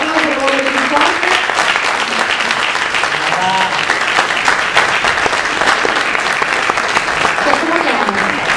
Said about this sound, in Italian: Veramente l'applauso per voi più forte.